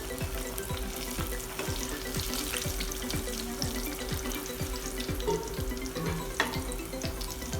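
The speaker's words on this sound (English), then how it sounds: "Fry the potal till it turns golden." Pointed gourd (potol) slices frying in oil in a pan, giving a steady close sizzle with faint stirring and clinking throughout.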